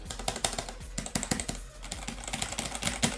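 Keys tapped on a Gamesir VX2 Aimswitch gaming keypad with textured WASD keys, caught close on a boom mic: quick, irregular clacks in short bursts, loud and alone with no voices.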